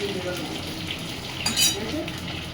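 Egg curry sizzles and bubbles in a pan at an outdoor picnic, a steady close frying hiss with occasional stirring scrapes, while people talk over it.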